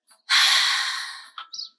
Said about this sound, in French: Et je vais respirer à partir du fond de la gorge.